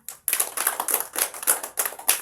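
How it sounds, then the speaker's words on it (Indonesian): Classroom children clap their hands in a burst of quick, uneven claps after a short pause, fairly close and lively, with no talking. "Tepuk tangan dulu untuk Odelia"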